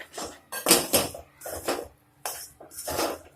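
Wheat flour stirred into melted ghee in a metal pan, giving a few close scraping and clinking strokes of a spoon against the pan in uneven bursts.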